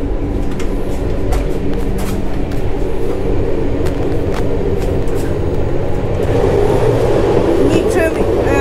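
Inside a departing passenger train, a continuous low rumble and rattle of the carriage fills the background, with occasional clicks and a rising tone near the end while people talk nearby.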